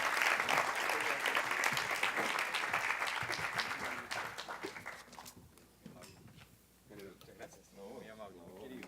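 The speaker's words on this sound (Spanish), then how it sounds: "Yo pido un aplauso para este par de señores" A conference audience applauds two panelists at an energy-sector event, with strong clapping that tapers off over several seconds while a speaker's voice comes through as it fades.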